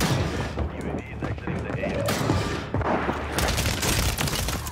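Rapid bursts of Uzi submachine gun fire in Call of Duty Warzone, dense repeated shots in close succession over a busy battle mix, with a player talking over the gunfire.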